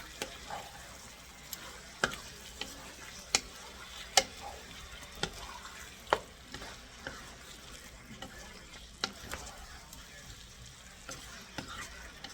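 Orange chicken dusted with garlic powder is stirred in a hot pan, a steady sizzle broken by sharp scrapes and clicks of the utensil against the pan at an uneven pace, close and fairly quiet.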